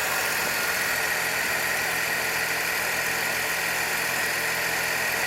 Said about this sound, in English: It might be the tiniest hint of an exhaust leak.